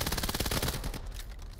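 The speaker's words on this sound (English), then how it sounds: "I think that was a double-handed SMG that came out there from someone on Acer" Rapid submachine gun fire from a double-handed SMG in a VR shooter match, a dense burst of sharp shots that trails off into scattered echoing reports, loud and close.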